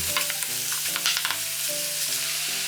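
Sour, well-fermented kimchi and thick-sliced onion stir-fried in a pan, giving a steady close sizzle with scraping and stirring clatters throughout.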